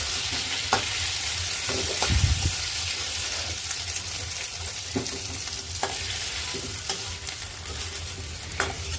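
Vegetables sizzle in a hot pan with a constant, close frying hiss, broken by occasional clinks and scrapes as they are stirred, with almost no talking.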